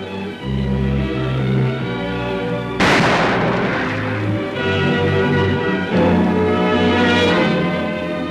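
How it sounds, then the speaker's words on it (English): Depth charges blow up wrecked landing craft to clear a harbour channel, two heavy booming blasts a few seconds apart heard over an orchestral newsreel score, each followed by a rumbling decay. "Wrecked landing craft were blown up with depth charges to clear the channel."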